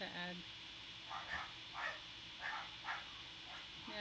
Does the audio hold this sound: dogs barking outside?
yes